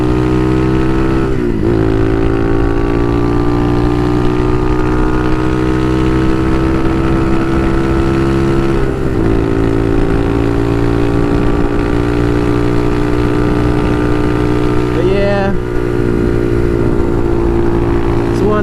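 A Bashan Motomax 250 supermoto idles at night with a continuous, loud engine rumble, close up, marked by a few brief revs and small pitch shifts throughout.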